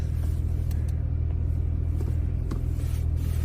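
Porsche 911 Carrera 4S, 450 PS, idling steadily as it is shifted into reverse: a constant low engine rumble close by, with a few faint clicks over the top and no talking.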